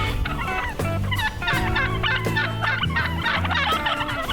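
Wild turkey toms gobble repeatedly in a Nebraska field during bowhunting over decoys, the rattling calls coming in overlapping bursts, fairly loud and close, layered over dense background bird song.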